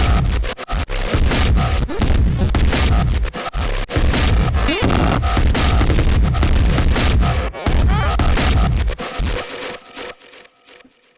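Stomp bass synth in a deconstructed electronic track, heavy distorted booming hits pounding in an irregular rhythm with dense saturated noise, loud throughout before fading out at the end.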